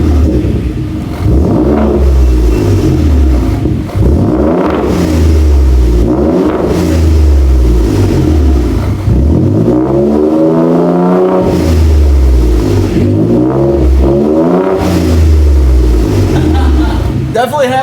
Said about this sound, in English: Let's give her a couple revs.